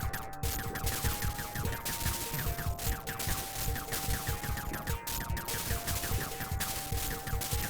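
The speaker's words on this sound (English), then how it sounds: "Might as well go ham with the missiles." Missiles firing in a 1986-era video game, a dense rapid volley of sharp bursts repeating throughout over steady electronic game tones.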